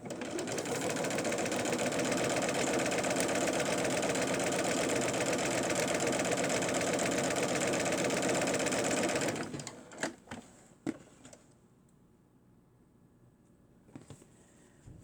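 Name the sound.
sewing machine stitching a seam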